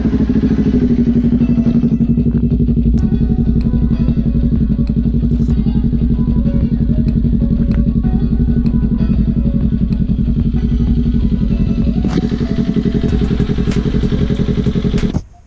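A Kawasaki Ninja 400 motorcycle engine runs loud and close, a rapid throbbing idle with mechanical clatter and light blips of revving, ending with an abrupt cutoff.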